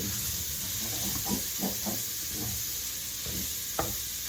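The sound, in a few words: sausage browning and sizzling in a pot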